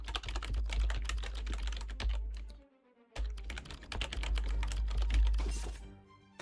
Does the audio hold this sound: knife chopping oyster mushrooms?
no